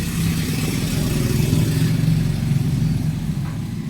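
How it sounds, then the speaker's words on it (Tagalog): A steady electric washing machine motor, reused in a homemade air compressor, hums continuously at close range, droning evenly with slight rises in intensity. "makina ito ng motor ito ng washing machine"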